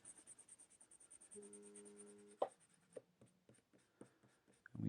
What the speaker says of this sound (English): I would just go through and just erase out all of my sketchy lines